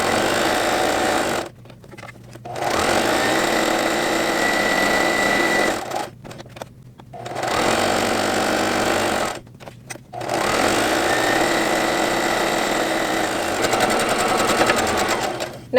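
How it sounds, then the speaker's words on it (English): Sewing machine stitching a 1/4 inch seam around the edge of a flour sack towel: close, loud, fast steady whirring runs, broken by three short pauses for repositioning, with no voices. "I'm going to go ahead around and sew the whole thing right around the edge"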